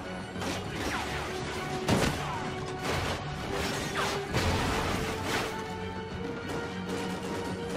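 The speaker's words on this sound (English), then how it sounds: "Flash bang!" A busy Call of Duty: Ghosts soundscape of repeated sharp crashes and bangs with whooshing bursts, fairly loud and continuous, ending in a sudden loud flashbang grenade burst.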